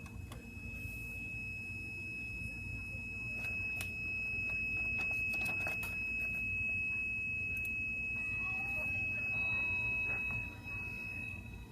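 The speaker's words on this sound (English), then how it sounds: "the nitrogen alarm goes off during the video" A nitrogen alarm sounds in a veterinary clinic's clinical pathology lab as a steady high-pitched electronic tone. It stays constant and fairly faint over low room hum and a few scattered clicks, with no talking.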